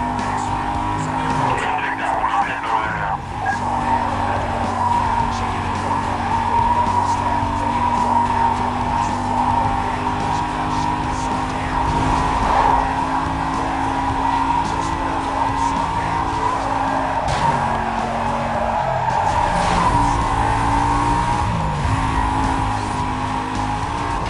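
Tires squeal and skid while a race car's engine drones in the Need For Speed Most Wanted (2005) video game, with a silver Mercedes at the wheel. A loud, continuous mix of engine whine and screeching rubber carries across the whole stretch.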